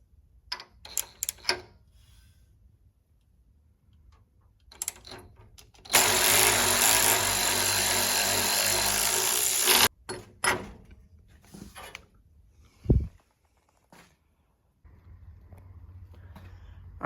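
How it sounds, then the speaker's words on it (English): A bolt is driven into a nut welded onto an engine's crank pulley to pull the pulley off, producing a loud, steady power-tool roar of about four seconds, preceded and followed by scattered shop clanks and thumps. "Then you just drive that little bolt in and it should just pull that crank pulley right off."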